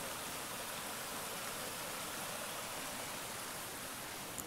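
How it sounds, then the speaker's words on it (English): Waterfall beside a very wet hiking trail on Mt Iwatakeishiyama in Japan, a dense, constant roar of falling water, steady and unbroken throughout with no voices. "Oh wow, another pretty waterfall."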